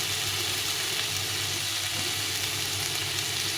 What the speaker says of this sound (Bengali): সবজিটা ভাজা হয়ে গেছে, দেখো সুন্দরভাবে ভাজা হয়ে গেছে।